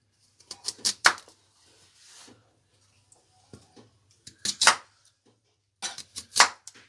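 A knife cuts a sweet potato into pieces on a board, landing in a few sharp, close chops grouped in short bursts, with quiet gaps between them and no talking.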